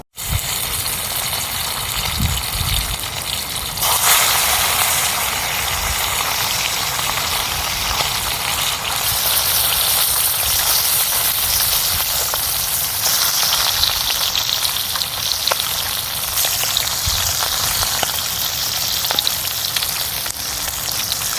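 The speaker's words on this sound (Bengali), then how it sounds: "এবার আমি প্রথমে মাছটাকে ভেজে নেব।" Salt-and-turmeric-coated fish frying in hot oil in a kadai, a loud, dense, continuous crackle and spatter that stays steady throughout, with no talking.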